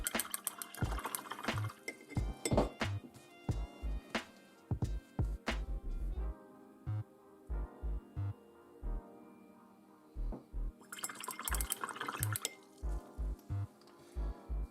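A brush clinks rapidly against a glass jar while water sloshes, in bursts separated by short pauses, close and fairly quiet, as a miniature paintbrush is rinsed in water.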